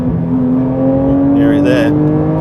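Porsche 992 GT3 Touring engine in sport mode, a steady, strong harmonic drone rising slightly in pitch as it pulls, heard from inside the car with a brief higher whine midway.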